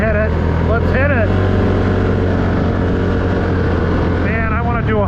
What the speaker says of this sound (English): That Suzuki 500. Snap that throttle.